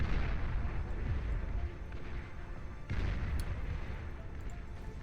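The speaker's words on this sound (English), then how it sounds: "Zar firing away, blasting apart Centurions in just a couple of shots is phenomenal." Zar units fire in a video game, blasting apart Centurions with a dense, continuous roar of heavy booming shots and rumbling blasts.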